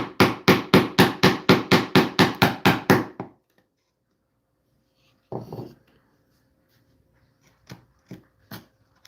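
Chisel struck by a mallet while cutting into wood for a Telecaster guitar build: a quick run of about a dozen sharp, even knocks, then silence and a few scattered scrapes and taps, close up with no talk.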